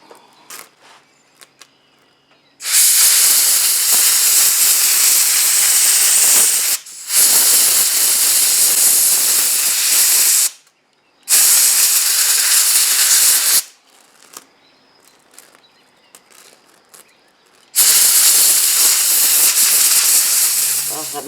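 Compressed air blasting through a mini bike engine to clear it out, several long, loud, steady hissing bursts of a few seconds each, separated by short quiet gaps with faint clicks.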